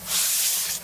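A Clorox cleanup spray bottle releases one steady, close hissing burst of mist lasting just under a second, with no voices.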